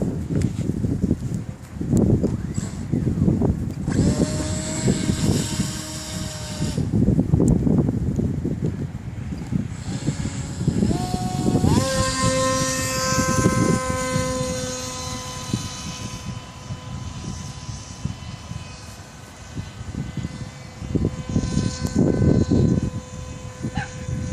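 A Bixler RC foam airplane's electric motor whines in flight, its steady tone stepping up in pitch partway through and holding there, over breezy outdoor wind noise.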